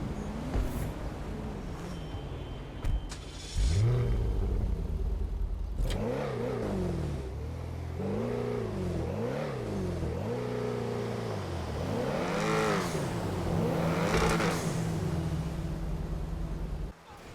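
Expensive sports car in GTA 5, its engine revving repeatedly in rising and falling sweeps, loud and close, with gear-like pitch climbs across the clip and a brief burst of other noise near the start.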